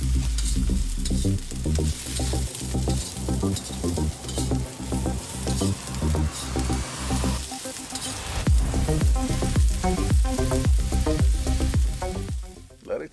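Broccoli and mixed vegetables stir-fry for chop suey, a loud crackling sizzle with rhythmic tossing and scraping in the wok, the hiss flaring up strongly partway through, with no voices.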